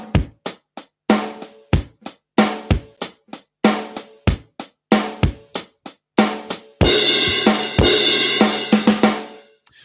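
A live drum kit lays down a tight repeating pattern of kick and snare hits with cymbal accents, then swells into a sustained crash-heavy stretch with a fill before cutting off; close, loud, no voices.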